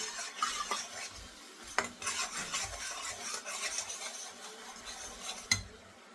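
Jaggery being added to hot sugar syrup and stirred in a pan for dal poli, with scraping stirs and a few sharp clinks of a spoon against the metal pan, fairly close and steady.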